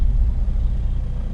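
A Skoda Fabia vRS with a gearbox that sticks in first gear gives a steady, loud, low engine rumble from close by while reversing onto a driveway.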